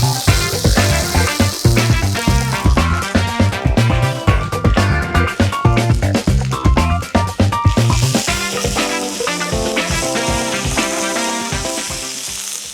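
Onion, capsicum and beans frying in a little sesame oil, a busy crackling sizzle broken by repeated scraping and stirring knocks, loud and close, easing to a calmer sizzle toward the end.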